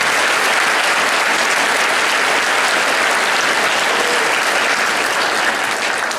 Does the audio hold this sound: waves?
no